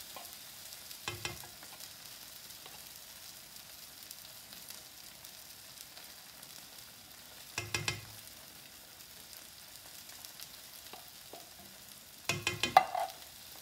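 A small scraper works around the inside of metal food cans in three short bursts of scraping and clinking, close and fairly soft, separated by long stretches of quiet kitchen background.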